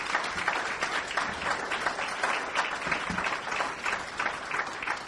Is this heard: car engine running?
no